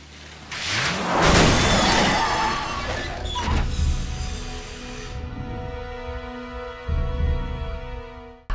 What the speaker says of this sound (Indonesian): mobil yang ditumpanginya tertabrak oleh truk sampai hancur berkeping-keping